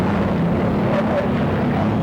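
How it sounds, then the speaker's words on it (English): Turbine engine of a racing hydroplane boat at the 1985 Gold Cup in Seattle, a steady distant whine and rumble over choppy water, continuous throughout under faint crowd or wind noise. "Hear the whining of that turbine engine."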